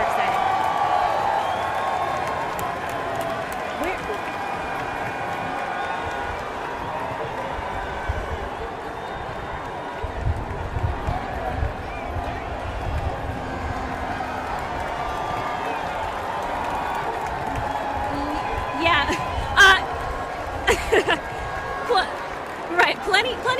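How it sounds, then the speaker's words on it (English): A crowd at the Milwaukee Bucks championship parade cheers and claps in a steady roar that carries through the whole stretch, with sharper bursts of applause and shouts near the end. "The crowd is so hyped."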